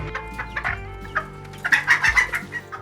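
Chickens cluck in a busy, overlapping run of short calls, fairly close and loud, growing denser toward the end with no talking.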